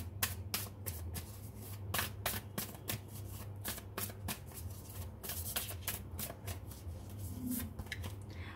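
Tarot cards being shuffled by hand, with rapid riffling bursts repeating close by in a quick, uneven rhythm.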